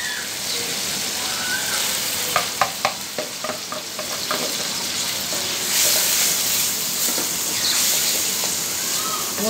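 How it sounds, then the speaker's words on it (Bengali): Masoor lentils fry with spices in a pan, a steady close sizzle broken by a quick run of sharp spatula scrapes and taps, then settling back into even frying. "মুসুর ডাল ভালো করে ভাজি লই মশলার লগে দিয়ে দিই"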